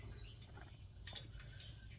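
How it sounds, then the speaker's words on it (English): A loud bird calls outdoors with sharp, bright chirps, several in quick succession near the middle, over a low steady background hum. "Oh, that's a loud bird."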